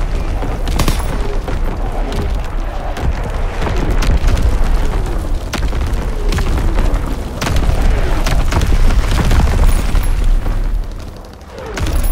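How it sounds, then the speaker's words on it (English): Incoming enemy artillery explodes in Call of Duty WWII multiplayer, a dense barrage of loud booms and rumbling blasts with debris crackle, one after another with hardly a pause. "Incoming enemy artillery."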